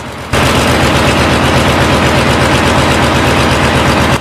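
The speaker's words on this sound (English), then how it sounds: "The engines sound like a lion roaring. It's so loud that it scares all the animals away." A V12 diesel engine on an old restored machine roars at a steady, very loud level after starting abruptly, a dense rumbling drone with a rapid pulsing throb that continues unbroken.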